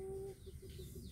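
A bantam chicken clucks in a longan orchard, giving a short tonal call followed by a few soft, quick clucks at moderate distance, with no voices.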